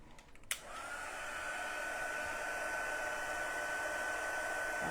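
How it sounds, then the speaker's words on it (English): An embossing heat tool blows hot air over a small card piece in a steady, close, even whoosh that starts after a brief click and runs without pause, with no talking. "then I'm going to bring in my heat tool"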